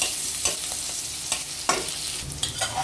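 Onions for noodles lightly frying in a pan, stirred with a spatula that scrapes the pan now and then, making soft, steady sizzling with sharper clinks scattered throughout.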